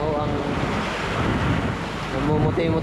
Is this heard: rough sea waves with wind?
yes